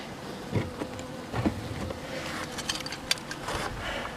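A steady, dense buzzing of many honeybees close by at an open hive, continuous throughout with slight swells in intensity.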